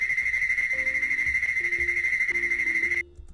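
A shrill, steady kaiju monster trill pulses rapidly with lower warbling tones layered in, then stops suddenly near the end.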